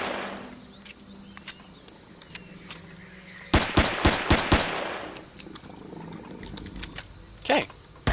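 Pistol gunfire in a video game, a rapid burst of sharp, loud shots followed by scattered single shots, with in-game creature noises and someone talking at times.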